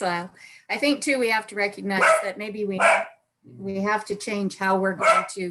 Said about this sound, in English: sorry guys, that's my dog